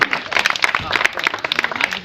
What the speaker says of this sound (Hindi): तालियां बजाकर अनुमोदना।